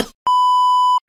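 A phone alarm gives a single loud, clear electronic beep that holds steady for under a second, with brief talk just before and after it.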